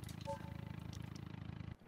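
A small-engined, low-power sedan in the video game BeamNG drones with a steady buzzing putter, like a moped, holding an even pitch before cutting off near the end.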